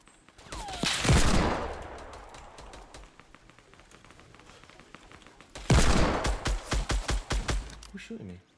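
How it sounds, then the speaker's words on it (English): Bursts of rapid gunfire in a Fortnite match, two loud volleys of quick shots separated by a quieter stretch of background noise, with a voice talking faintly in places. "Who's shooting me?"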